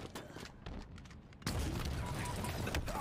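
A grenade blast in Halo Infinite, a sudden loud burst partway through that leaves a heavy, sustained roar of explosion and battle noise, following quieter scattered game sounds.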